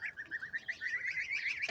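Geese honk and cackle in a continuous chattering stream, fairly faint, with no talk.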